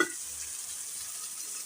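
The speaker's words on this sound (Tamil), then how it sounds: "அதையும் ஒரு 2 நிமிஷம் நல்லா அந்த எண்ணெயிலேயே நல்லா வதக்கி விட்டுருங்க." Chili powder and tomatoes sizzle in hot oil in a pan while a thatta payaru kuzhambu cooks, a soft steady hiss with a small knock near the end.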